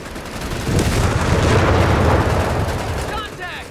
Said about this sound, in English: Here's a bundle grenade for you.